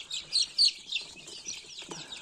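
A Mechelen Cuckoo rooster and chickens cluck and chirp nearby in short bursts, a busy fowl chatter with no talking.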